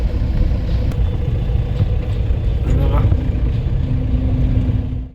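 Heavy traffic on a Mumbai road, a constant engine rumble of passing vehicles with a brief whine near the middle and a sustained engine tone toward the end before it cuts off.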